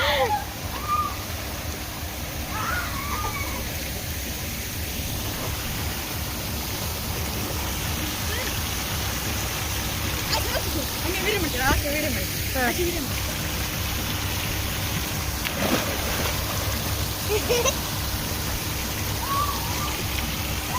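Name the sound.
water falling at a water park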